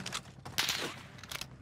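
Gunfire in the video game Warzone Pacific, quiet distant bursts of rapid shots crackling amid game ambience, faint and indistinct with no talk over it.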